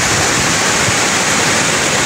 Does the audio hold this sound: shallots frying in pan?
no